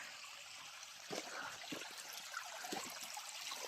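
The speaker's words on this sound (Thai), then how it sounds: "ในห้วยมีลำธารเล็กๆ" A small stream trickles through a creek on a mountain cattle and horse pasture, a steady, faint, hissing flow of water with soft gurgles and no voices.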